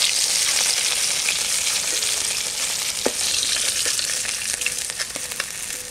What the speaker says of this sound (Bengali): সব মাছগুলি লাল লাল করে ভাজা হয়েছে